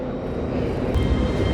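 An LNER Zoomer passenger train bound for London King's Cross, a loud steady rumble and rolling rail roar that builds slightly toward the end, with no talk.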